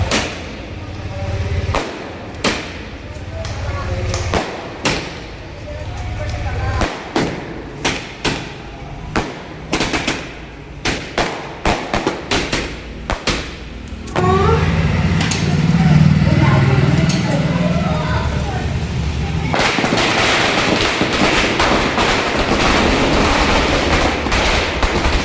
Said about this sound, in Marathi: दोघंही फटाके वाजवत होते